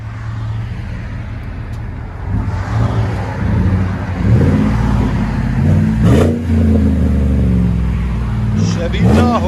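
Chevy Tahoe 5.3L V8 with a Magnaflow muffler, heard from inside the cabin as the engine rumbles and revs up under throttle, with someone talking over the low exhaust drone.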